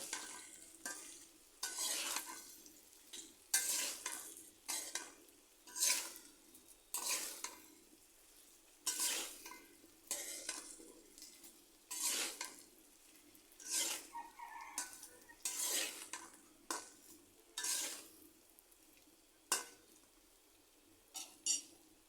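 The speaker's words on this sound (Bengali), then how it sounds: "কচুর ছড়াগুলোর মধ্যে এবার আমি লবণ হলুদ দিয়ে দিলাম এবার ভালো করে মিশিয়ে নিচ্ছি" Taro stolons tossed with salt and turmeric in a pan, a spoon scraping through them in steady repeated strokes with a light sizzle underneath, moderately close and with no voices.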